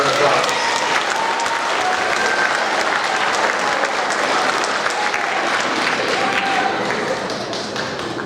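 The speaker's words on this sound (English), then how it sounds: "Give them a round of applause." Audience clapping at a 7th grade school awards ceremony, a dense, even wash of many hands applauding students that continues steadily from start to finish.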